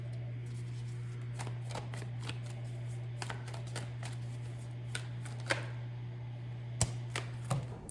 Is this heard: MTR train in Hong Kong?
no